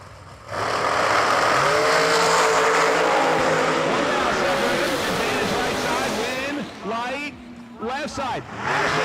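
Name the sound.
blown dragster and race car launching at drag strip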